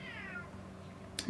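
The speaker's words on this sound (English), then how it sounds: "If you heard that, that is my cat." A house cat locked out of a room meows from behind a closed door in one long, plaintive, drawn-out cry, muffled and moderately loud, ending with a brief sharp click.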